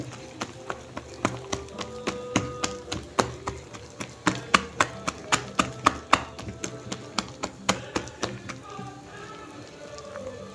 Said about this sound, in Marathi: फेटून घ्यायचं आहे.